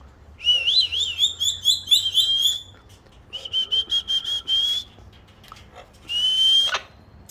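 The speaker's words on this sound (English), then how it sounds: "Check the parrots. Nice parrots." Parrots give bright, warbling whistles and chirps in three separate bursts, the first long and wavering, the second a rapid string of notes and the last a short high whistle, heard clearly against a quiet background.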